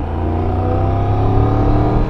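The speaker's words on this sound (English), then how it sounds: "That exhaust is amazing." A Triumph Tiger 1200 Rally Pro motorcycle's exhaust roars loudly and close as it accelerates, its deep harmonic note rising slightly with no voices present.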